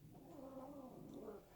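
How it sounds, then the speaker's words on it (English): Cats fighting somewhere in the background, a faint, drawn-out caterwauling yowl that rises and falls, low and distant. "Serious cat fight going on."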